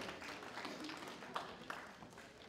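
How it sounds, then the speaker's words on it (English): An audience claps to welcome a speaker at a women and sport conference in Uganda, steady scattered applause at moderate distance with a couple of sharper individual claps standing out. "I think we'll keep clapping till she comes."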